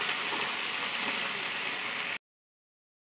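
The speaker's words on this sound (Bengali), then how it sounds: "এবার চুনো মাছটাকে ভেজে নেব" Small fish fry in hot oil in a pan, a dense steady sizzle for about two seconds before cutting to silence.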